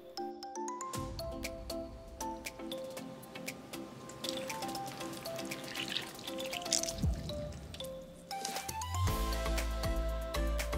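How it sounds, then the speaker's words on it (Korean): Water drips and trickles as tofu is squeezed by hand to drain it for a seaweed and tofu salad, a steady wet squish and dribble close up with no voices. "두부도 물기를 최대한 짜주고"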